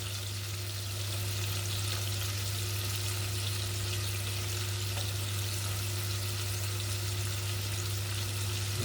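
Honey and lemon juice sizzle in a pan with duck, a soft, steady hiss of frying that continues evenly throughout without talk.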